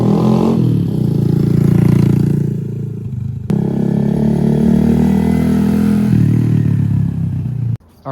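A Honda Grom motorcycle rides by loud and close, its engine droning steadily with pitch shifts as it moves, then cutting off sharply at the end.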